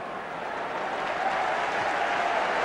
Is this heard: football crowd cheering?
yes